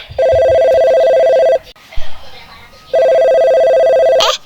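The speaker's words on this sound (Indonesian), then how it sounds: "Kok ada yang telepon ya?" Two long electronic telephone rings, loud and close, separated by a pause, in a Minecraft video game drama, with a brief voice near the end.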